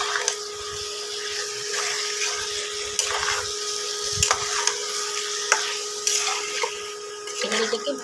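Chicken pieces with parboiled potatoes fry in a pan for a yogurt chicken dish, with repeated scraping stir strokes and clinks over a steady sizzle and a faint constant tonal hum.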